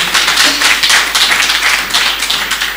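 A church congregation clapping hands together, a dense, continuous mass of claps filling the room, loud and close, with no talk over it.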